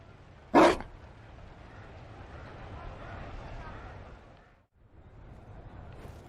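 Single loud, close dog bark from a dog in Dragon Age: Inquisition, followed by quieter ambient room tone with a brief dropout near the end.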